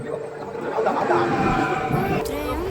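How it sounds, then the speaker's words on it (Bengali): A train pulls into a station, its low rumble and rolling rattle running steadily for a few seconds as people talk nearby. "আমাদের ট্রেন ঢুকছে"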